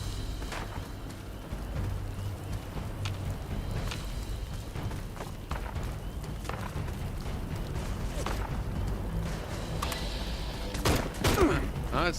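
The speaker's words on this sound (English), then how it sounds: "Something else is out there shooting at me." Gunfire in Fallout 76 crackles as scattered, fairly distant shots over a steady background din, ending in a louder, closer burst.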